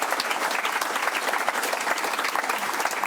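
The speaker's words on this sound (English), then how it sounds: "big round of applause for" A crowd at an election night event for the Liberal Party applauds the campaign volunteers, steady dense clapping sustained for a few seconds at even loudness, with no voice over it.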